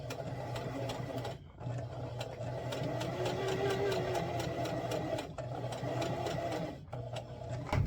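A sewing machine stitches a channel in a LARP shield cover, running in a steady rapid rhythm close by, pausing briefly twice before starting up again.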